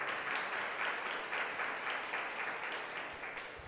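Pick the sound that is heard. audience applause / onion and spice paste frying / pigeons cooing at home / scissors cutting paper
audience applause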